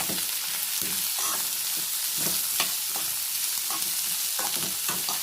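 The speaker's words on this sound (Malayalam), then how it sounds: "ഇത് സവാള നീളത്തിൽ കനം കുറച്ച് അരിഞ്ഞിട്ടുള്ളതാണ് ഇത് ചേർക്കുക" Thinly sliced onions frying in oil in a pan give a loud, continuous sizzle, broken by repeated scraping strokes of a spoon stirring them, with no voice.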